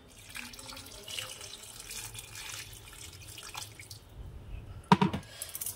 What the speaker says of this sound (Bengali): আর একটু গরম জল দিয়ে দেবো।